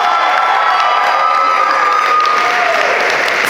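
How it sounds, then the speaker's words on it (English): A wedding crowd bursts into sustained, loud applause and cheering for the groom's wife during the speeches, with bright shouts and whoops riding over dense clapping. "big round of applause for my beautiful wife"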